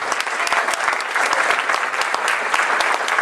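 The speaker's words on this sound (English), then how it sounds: "let's keep the applause going" Steady, dense applause from an audience at a comic book shop event, sustained at even loudness for the whole stretch with individual claps crackling through the wash.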